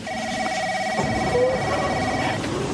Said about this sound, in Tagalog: Oh, Cora, sagutin mo nga yung telepono.